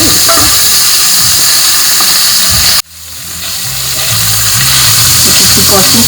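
Dry fish pieces fry in a pan with a loud, steady sizzle that cuts out abruptly partway through, then swells back up, gaining strength toward the end.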